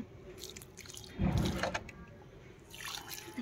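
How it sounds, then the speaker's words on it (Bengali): Water is poured onto freshly repotted adenium plants, a soft splash and trickle into the soil with a fuller gush partway through, quiet and close, with no talk. "এবার এক এক করে সবগুলিকে জল দিয়ে দেবো"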